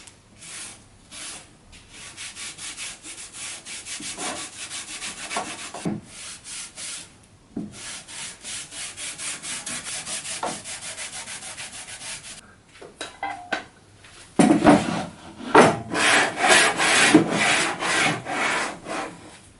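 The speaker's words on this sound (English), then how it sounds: "the last thing we want to do is apply some paste wax" Paste wax rubbed onto a wooden crosscut sled for a Bosch GTS1031 table saw: repeated close scrubbing strokes in rhythmic bursts with short pauses, growing brisker and louder toward the end, no talking.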